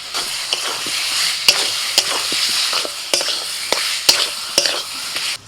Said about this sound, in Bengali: কিছুক্ষণ ঢাকা দিয়ে মশলাটাকে ভালো করে কষিয়ে নিয়েছি। এবার ভাজা আলু দিয়ে দিচ্ছি।